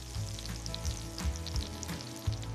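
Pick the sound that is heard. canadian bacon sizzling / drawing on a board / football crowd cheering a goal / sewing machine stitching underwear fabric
canadian bacon sizzling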